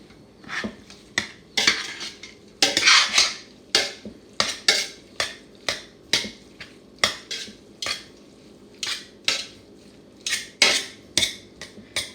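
A spoon scrapes and clacks against a pot while cooked white rice and meat are stirred together for Cajun boudin balls, making a rhythmic series of close, sharp scraping strokes about once a second.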